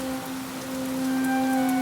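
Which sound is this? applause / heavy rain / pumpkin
heavy rain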